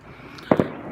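Distant fireworks burst outdoors: a few sharp pops, two close together mid-clip and one near the end, faint and far away over a low background hiss.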